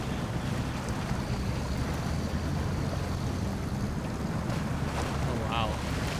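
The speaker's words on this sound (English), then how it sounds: "We're going so quick through the water." A truck rushing quickly through water in the SnowRunner video game, a dense continuous wash of splashing and engine rumble with no break, fairly loud and steady throughout.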